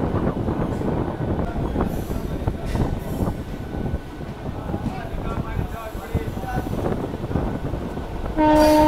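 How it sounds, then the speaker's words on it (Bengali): A local train pulls out of Uluberia railway station with a steady, loud rumble of wheels and carriages that runs throughout, and a sustained horn blast sounds near the end. "আমার ট্রেন ছেড়ে দিল উলুবেড়িয়া রেলওয়ে স্টেশন থেকে"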